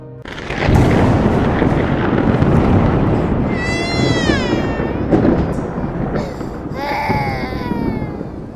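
A loud boom of thunder rolls through a calm house at night, a long dense rumble filling the room, with a cat's drawn-out cries rising above it later.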